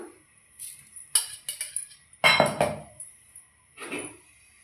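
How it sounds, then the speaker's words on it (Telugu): Metal spoon scooping sugar and clinking against a glass jar and blender jug while making dragon fruit banana juice: a series of bright, close taps and scrapes in uneven bursts with quiet gaps between. "ఒక 2 స్పూన్స్ షుగర్ వేస్తున్నా"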